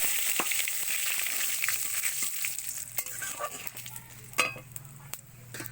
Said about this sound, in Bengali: এবার দিচ্ছি জিরে আর শুকনো লঙ্কা ফোড়ন দিচ্ছি, সঙ্গে তেজপাতা